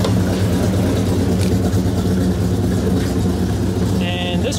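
A 1997 Dodge Viper GTS engine idles and warms up with a steady, deep, loud rumble close by, and a voice speaks over it.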